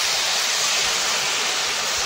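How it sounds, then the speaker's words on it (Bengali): Water poured into a curry cooking in a pot, a steady broad splashing rush that runs loud and unbroken, close by, with no talk over it. "এবার জল দিয়ে দেবো"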